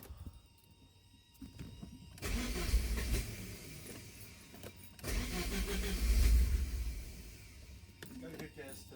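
A 1983 Porsche 944 that was leaking from its fuel pump cranks twice, each attempt a whirring starter burst with the engine catching and revving briefly before dropping away, close and fairly loud, with people talking in between.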